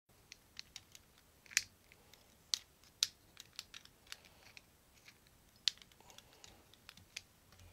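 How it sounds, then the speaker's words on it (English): Small fine-point scissors snip in sharp, irregular clicks, cutting stems while tying pickerel flies, close and quiet, with short pauses between cuts in an otherwise still room. "Fine point scissors, and I'm going to get the stems cut out of there."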